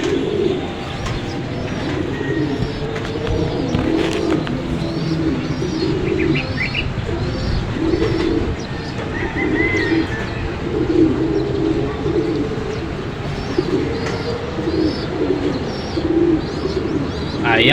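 Homing pigeons arriving during an SDR training flight in Angono, Rizal, cooing and chirping steadily over a busy outdoor background, with occasional wing flaps and faint voices nearby.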